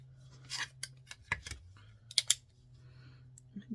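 Scissors snip along the pinked edges of quilt charm squares, giving several crisp close cuts in an uneven rhythm over a faint hum, with no talk.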